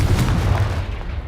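A Confringo blast spell in Hogwarts Legacy bursts with a deep, booming explosion, then its rumble tails off for about a second.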